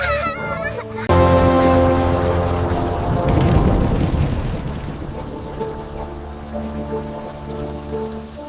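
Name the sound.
thunderstorm with rain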